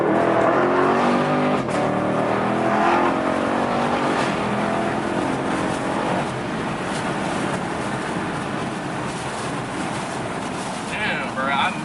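A 2016 Chevrolet Camaro SS with a Pedal Commander throttle controller accelerating hard, heard from inside the cabin as a deep V8 engine roar rising in pitch through the gears over heavy wind and road noise, with voices talking over it.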